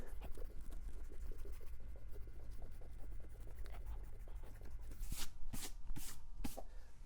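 A pencil eraser is rubbed on paper during drawing, a soft scratchy scrubbing heard up close and quiet, with a few sharper brushing strokes at the end.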